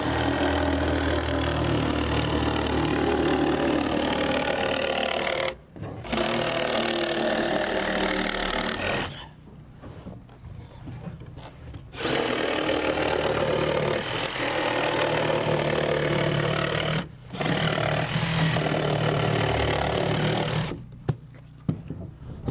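A reciprocating saw cuts out the bottom of a door flush to the floor, a loud buzzing drone running in long stretches with short stops between passes, close by.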